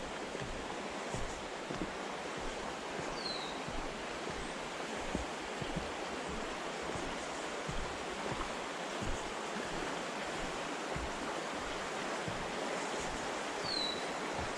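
A stream flows steadily outdoors in a back field, a constant rushing wash of water at moderate distance with no voices over it.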